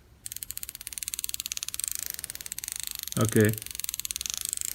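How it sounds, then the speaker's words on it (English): Drag on a 2018 Daiwa Ryoga 1520 CC baitcasting reel, a fast, steady train of crisp ticking clicks that keeps running through the clip, with a brief spoken word partway through. "This is not the clicker, this is the sound of the drag."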